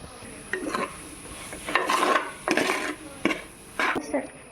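Chicken chunks coated in turmeric and chili go into a curry pan, producing several separate bursts of clattering and scraping against the metal with a soft sizzle underneath.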